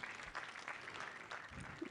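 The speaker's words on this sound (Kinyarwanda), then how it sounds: "Amashyi menshi cyane tubaze dushimira ababyeyi" Applause from a wedding crowd at a dowry ceremony, thanking the parents, a steady wash of many hands clapping through the short stretch with no voice on top.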